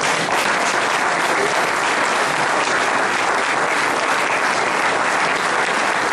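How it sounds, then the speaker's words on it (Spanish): A church audience applauds during a Spanish-language sermon, loud continuous clapping from a large crowd that holds steady and unbroken throughout. "Si ustedes siguen aplaudiendo, yo sigo predicando."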